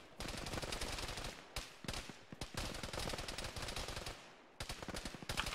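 Bursts of automatic gunfire in a military video game, loud, rapid and sustained, broken by short pauses between volleys.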